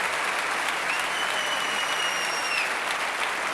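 Big crowd applauding steadily after a song at the Eurovision Song Contest 1992, broad even clapping with a faint whistle-like tone sustained in the middle, no speech.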